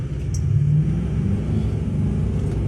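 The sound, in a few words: Duramax diesel truck boosted launch, engine revving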